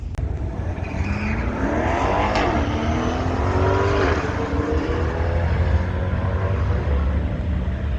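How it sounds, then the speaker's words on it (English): A Buick drives past at the Hot Rod Power Tour 2025 car event, its engine rising and falling in pitch as it accelerates nearby, loud and continuous against open outdoor background noise. "The Buick's actually moving."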